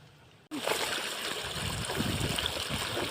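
Water flows through plowed channels cut into a muddy rice field and runs toward a duck pond, a steady rushing trickle with splashing that starts abruptly after a brief quiet moment and continues close by.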